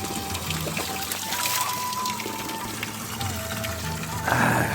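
Natural spring water in a village runs in a steady trickle and splash, close and moderately loud, with faint voices in the background and a brief louder gush near the end.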